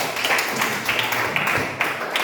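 A classroom of students claps together during a network-cabling lesson, a busy, moderately loud patter of many hands with a few sharper peaks, steady throughout.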